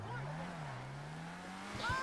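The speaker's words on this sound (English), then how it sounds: "The sound of this car now" A Grotti Brioso R/A car engine in GTA 5 Online drones with a steady, slowly rising pitch, then a brief tire squeal near the end, fairly quiet overall.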